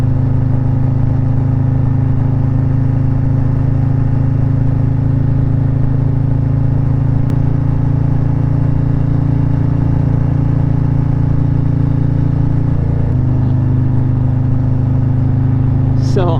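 A 2023 Harley-Davidson Road Glide ST motorcycle cruises at a smooth, steady throttle, its engine a loud, constant low drone from start to finish, with a brief shift in tone near the end.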